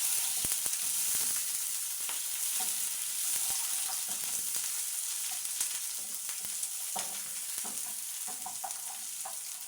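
Red onions sizzle steadily in a hot pan, a dense, even frying hiss with occasional clicks and scrapes from stirring, close and continuous throughout.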